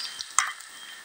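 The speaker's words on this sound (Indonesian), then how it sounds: "Kita goreng dulu teman-teman ikannya tadi." Tilapia fries in hot oil in a pan at a campsite, giving a short burst of crackling sizzle with a few sharp pops and spatters, close and alone.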